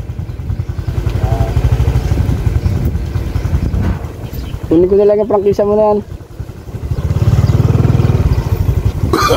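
A motorcycle tricycle engine runs close by throughout, rumbling loudly under an animated conversation between two men.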